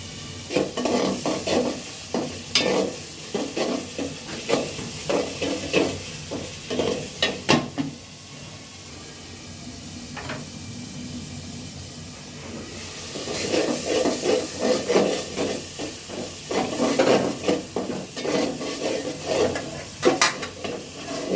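Loitta fish fry in hot oil with a continuous close hiss and sizzle, broken by bursts of stirring and scraping in the pan, and a quieter stretch of steady sizzling in the middle.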